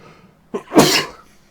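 A single sharp sneeze nearby, a brief intake followed by a loud burst, alone without talk.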